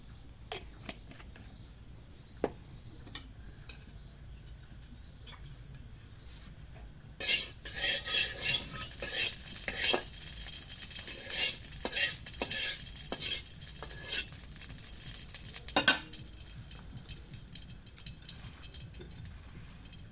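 After a few quiet knocks, hot oil in a wok bursts into a bright, crackling sizzle that continues with occasional clinks of utensils.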